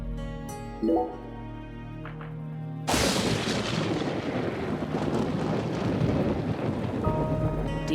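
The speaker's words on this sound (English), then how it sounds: "Do you hear that thunder?" Thunder in the video game Deadly Premonition 2: after a few quiet game tones, a sudden loud crack breaks into a long, rolling rumble with rain-like hiss that fills the rest of the moment.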